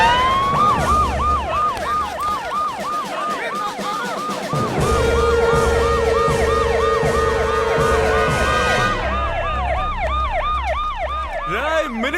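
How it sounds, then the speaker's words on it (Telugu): Sirens on a minister's car wail continuously and loudly in a film scene, several overlapping rising-and-falling tones sweeping repeatedly, with a steady higher siren joining midway, over engine rumble. "సైరన్ని మోగించండి రా"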